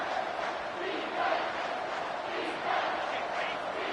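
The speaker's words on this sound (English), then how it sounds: "Third down, and this crowd is tearing the lid off this place" Steady stadium crowd roar in a College Football 25 video game broadcast of Auburn vs Oregon, a dense continuous wall of cheering with slight swells, no voices standing out.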